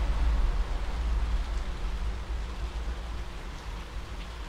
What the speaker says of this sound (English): the constant rain against my windowpane drummed out any coherent reason